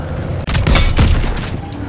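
Enemy tank destroyed in the Call of Duty WWII video game, a loud booming explosion with crackling gunfire-like blasts rolling on for a couple of seconds.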